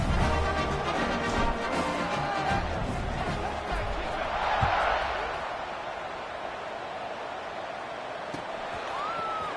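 A football stadium crowd waits at kickoff in a game against Duke, a broad, steady roar of many voices that swells briefly and then settles, with a commentator talking over it.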